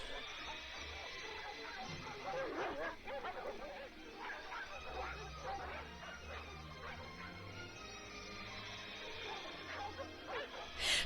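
Dogs in the film Mac and Me barking, yipping and whimpering in a chaotic scene, repeated sharp barks over a busy mix of crashes and movement, moderately loud and continuous for several seconds.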